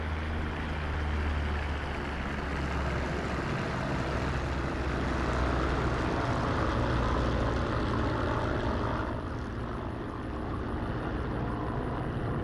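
The propeller engine of a warbird in the DCS flight sim drones continuously at a loud, even level, a dense engine hum with a low throbbing base that holds without break.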